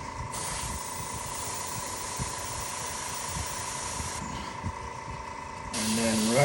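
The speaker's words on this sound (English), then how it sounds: "I gotta be careful because I'm using a bigger airbrush" A large airbrush sprays primer in a steady, close hiss that cuts off for a moment and then resumes louder.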